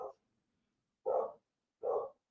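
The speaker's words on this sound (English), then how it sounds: "My dogs are going crazy." Dogs bark three times in a house, each a short, separate woof with about a second of silence between. The barks sound faint and somewhat distant.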